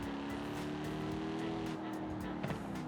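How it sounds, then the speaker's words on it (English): Hellcat-swapped 2008 Dodge Magnum SRT-8 V8 engine holding a loud, steady drone close by, with a single brief popping backfire near the end. "It sounds great though."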